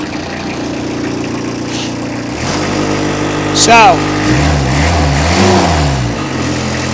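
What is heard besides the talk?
Finn straw blower with Kubota diesel engine running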